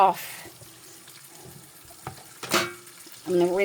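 Cabbage rinsed under a kitchen tap, a short gush of running water that bursts out briefly amid quiet handling noises, followed by a voice talking.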